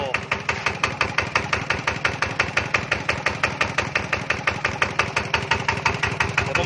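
A motorcycle-like engine idles steadily nearby, its rhythmic thumping pulses even and loud throughout, with no clear talking.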